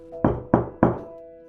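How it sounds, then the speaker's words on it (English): Three evenly spaced knocks on a wall beside a bed, hollow and dull, each thud ringing briefly before the next, alone in an otherwise quiet room. "A faint knock from the wall beside the bed. 3 knocks."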